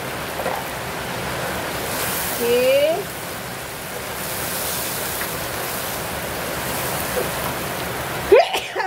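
Steady rain falls outdoors as a constant broadband hiss during cooking of sambal tumis with chili, shallots and garlic, with brief voices and kitchen clatter over it.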